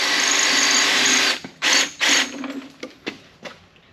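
A power drill with a dull bit whines steadily at close range, then stops and restarts in several short bursts and quick trigger taps, with mechanical clicks between them, while working on floor supports for a 1956 rat rod.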